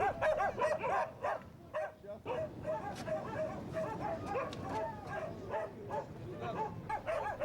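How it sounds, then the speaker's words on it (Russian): Several dogs bark and yip at a nature reserve cordon along the Yenisei river in Siberia, a busy overlapping chorus of quick barks at moderate distance, fairly faint, continuing throughout. "Одна из собак, встретивших нас бодрым лаем, мать Саяна."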